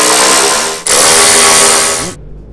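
Power tool whirring continuously as it drives down bolts on the catalytic converter protection plate of a 2023 Toyota Prius, a loud close burst with a brief dip partway, then cutting off into quiet.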